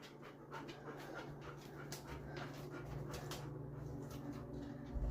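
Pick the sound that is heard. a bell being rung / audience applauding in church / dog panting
dog panting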